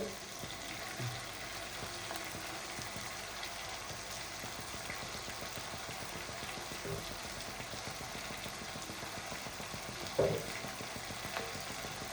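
Egg chammanthi being stirred in a pan: a soft, steady frying sizzle with faint scraping movement and one brief clink of utensil against pan, fairly quiet and close.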